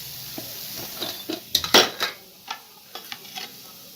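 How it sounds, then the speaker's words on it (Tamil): A metal pan is set down on a kitchen stove, with several light clanks and scrapes around one louder, ringing clatter, close and with no talking. "ஒரு பேன் அடுப்பில் வச்சுருக்கேன்."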